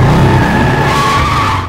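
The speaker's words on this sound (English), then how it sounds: "As the motorcycle landed, it knocked back a licker." A loud, continuous tire skid screeches over a rumbling motor, holding steady for nearly two seconds before easing off at the end.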